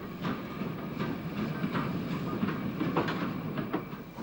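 A passing train on the Waverley Line, steam-era LNER B1 locomotive stock, rolls by with a steady, dense rumble and repeated clickety-clack of wheels over rail joints, close and continuous throughout.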